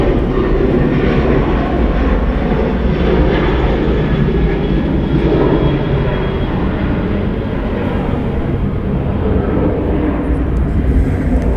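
Southwest Airlines Boeing 737-7 jet, 15 years old, at Atlanta Hartsfield-Jackson airport, gives a loud, steady, broadband engine roar and rumble that holds throughout without a break.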